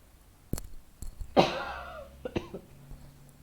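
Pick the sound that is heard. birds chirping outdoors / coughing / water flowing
coughing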